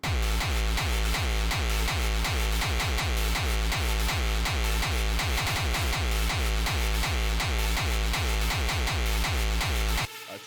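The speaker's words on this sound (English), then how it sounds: "this is a quick video about Millenium style 909 kicks" A distorted Millennium-style hardcore 909 kick built in FL Studio pounds in a fast, even four-on-the-floor stream for about ten seconds, loud and booming with a gritty tail, then stops abruptly.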